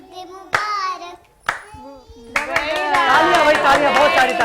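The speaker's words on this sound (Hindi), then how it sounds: "तालियां भाई, तालियां, बहुत सारी तालियां।" A studio audience at an Eid festival TV show applauds, with isolated claps early on growing into sustained loud clapping mixed with voices and music.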